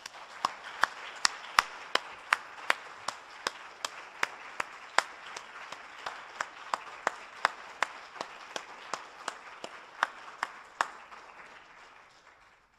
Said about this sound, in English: I ask you to thank me with a robust round of applause for our two speakers